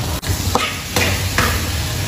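Cumin seeds and onions fry in a hot pan, sizzling steadily while a spatula stirs and scrapes at intervals, close and loud.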